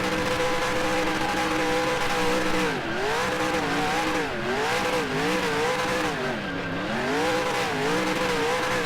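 Race cars doing victory burnouts in the NASCAR Racing 2003 video game: a loud, steady engine drone with rising and falling revs and tire squeal running throughout, close and continuous with no talking.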